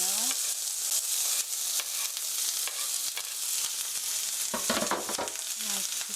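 Chopped onion and garlic frying in hot oil in a pan, a dense continuous sizzle broken by occasional spatula scrapes and stirring clicks, close and fairly loud throughout.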